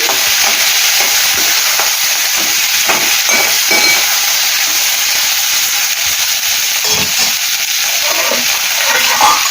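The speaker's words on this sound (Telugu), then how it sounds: "ఇదే పోపులో ఈ పచ్చిమిర్చిని వేసేస్తాం బాగా కలిపేసి" Steady loud sizzling of green chilies frying in hot oil, with occasional stirring clatter throughout.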